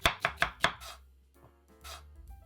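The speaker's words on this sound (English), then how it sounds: "Give the carrots a rough chop." A knife roughly chops carrots on a board for smoked chicken stock, four sharp, evenly spaced strikes up close, then a pause and a few softer scrapes and taps.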